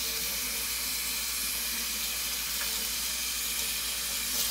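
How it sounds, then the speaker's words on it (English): Warm water runs from a kitchen sink tap over hands being rinsed of soap, making a loud, steady hiss and splash that stays unbroken from start to finish. "rinse these hands off really well with warm water"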